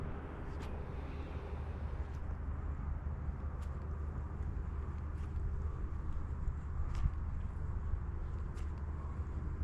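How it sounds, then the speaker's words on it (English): Constant low rumble of traffic on a busy road beside a river, with faint passing whooshes, a steady dull roar in the background. "Apologize for the road noise."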